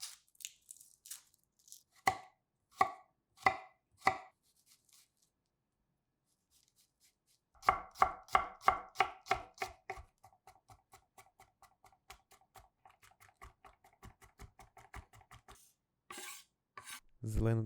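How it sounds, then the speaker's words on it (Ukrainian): Peeled garlic being finely chopped with a knife on a board, sharp rapid taps in short bursts, then a long fast run of close, crisp knocks after a pause. "Часник очистіть і дрібно порубайте ножем."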